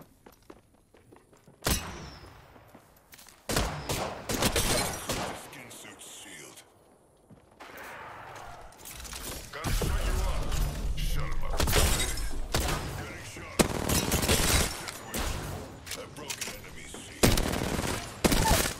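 Gunfire in the Apex Legends video game comes in sharp bursts and rapid volleys, with quiet gaps and footstep-like thuds between them, growing into sustained firing in the second half.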